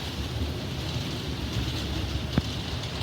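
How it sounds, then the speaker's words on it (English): Steady rain falls through a severe thunderstorm with strong wind, and low thunder rumbles on constantly beneath it, plus one sharp crack near the end. "The thunder is pretty constant."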